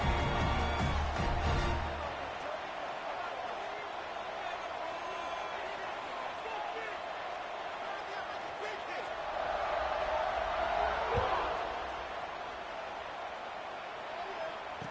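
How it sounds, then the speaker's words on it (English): A football stadium crowd buzzes with a broad, continuous roar after a score, swelling slightly midway, with a commentator talking over it. "this crowd is buzzing after that last score"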